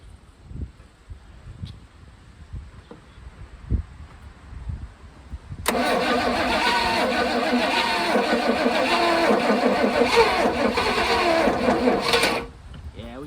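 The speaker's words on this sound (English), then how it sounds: "All right, it wants to start, but I got to do something with this carburetor." A 1978 Jaguar XJS fitted with a Corvette engine cranks loudly for about seven seconds in a steady churning roar that cuts off abruptly, following a stretch of quiet shop noise.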